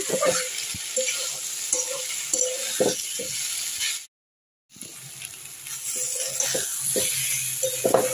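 Bay leaf and cinnamon sizzle and crackle in hot mustard oil, a steady close frying hiss with small clinks from stirring, broken by a brief silence midway before the sizzling resumes.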